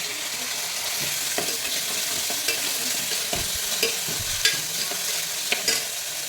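Tomatoes sauté in a hot pan for a Tamil home dish, a steady close sizzle broken by repeated spatula stirs and scrapes roughly every second, no voices.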